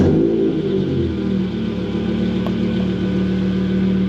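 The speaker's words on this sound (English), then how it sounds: "while we're warming up the E60 M5 for the test drive" Steady idle of a 2008 BMW E60 M5 with 68,000 miles and freshly replaced rod bearings, warming up before a drive: a smooth, even drone at constant pitch with no talking.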